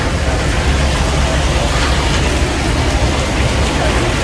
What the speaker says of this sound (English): So it's raining heavily.